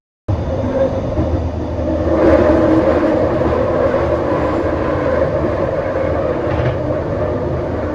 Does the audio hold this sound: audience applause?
no